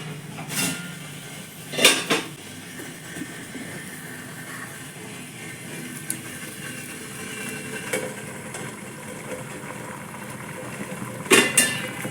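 A metal idli steamer pot being set into a vessel of boiling water, with a few sharp clinks and clanks of metal near the start and end over a steady low simmering hiss; no one speaks.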